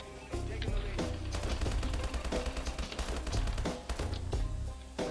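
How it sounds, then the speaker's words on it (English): Rapid bursts of automatic gunfire in a first-person shooter video game, fired at random while blindfolded, crackling loud and dense for several seconds with short gaps between volleys. "I'm just gonna randomly shoot."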